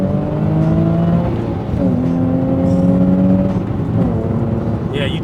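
A Nissan 350Z Nismo 380RS sports car engine revs loudly and close after a downshift, its tone climbing and falling in a few sweeping pulls with no talking.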